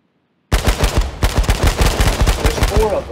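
Rapid bursts of automatic gunfire from the battle-royale game H1Z1, a loud, close string of sharp shots in quick rhythm with a brief pause near the start of the string, heard alone without talk.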